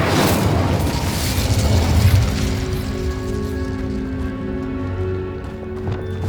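Fiery Incendio spell blast in Hogwarts Legacy, a loud roaring burst that fills the opening seconds and then decays into a rumbling tail with a low hum underneath.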